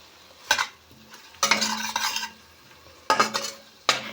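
Boiled bottle gourd stir-fried in a pan, heard as four separate bursts of scraping spatula and clattering cookware over a faint sizzle, close and with short pauses between; no voices.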